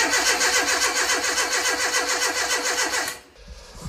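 A car engine fires up for the first time after a long restoration, running loud and close with a busy, rough churning for about three seconds before cutting out abruptly.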